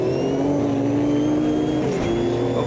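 A race car in the video game Automobilista 2 holding a steady, loud engine drone, then dropping a gear with a quick throttle blip and a sharp shift in pitch near the end.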